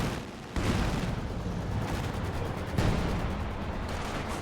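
Rocket artillery barrage from Raketen in a competitive strategy video game match, a dense, continuous roar of overlapping booms and blasts with a surge at the onset and another swell midway, loud and sustained.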